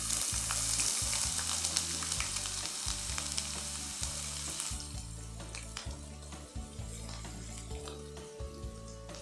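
Sliced ginger frying in hot oil for a prawn pickle, a steady loud sizzle running throughout with occasional stirring scrapes, easing slightly in the second half.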